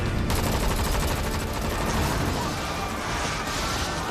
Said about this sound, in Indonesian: Martias bertugas mengalihkan perhatian penembak jitu dengan menembak ke arah luar gedung.